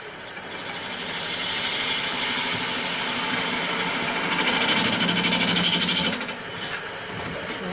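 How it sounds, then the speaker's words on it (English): A bowl gouge cuts into wood spinning on a lathe while turning a baseball bat, a continuous close scraping drone with a steady high whine and a rougher pulsing stretch near the middle. "I'm going to try my bowl gouge and see if I can get a nice clean cut coming in"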